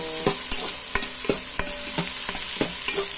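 Mussels-in-coconut-milk ingredients sautéed in a pot: a steady sizzle with repeated sharp scraping stir strokes roughly every half second, close and fairly loud, no talking.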